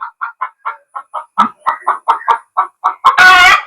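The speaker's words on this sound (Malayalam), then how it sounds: "നമ്മളെ ഫാമിലെ കോഴിക്കൾ ഇതൊക്കെ തന്നെ കേട്ടോ" Hens cluck in a rapid, steady series of short calls close by, ending in a loud, drawn-out squawk.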